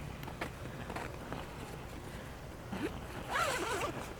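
A zipper on one of the zippered openings of a hunting blind is pulled in a few short faint rasps, ending in a slightly louder longer pull nearby, with no talk.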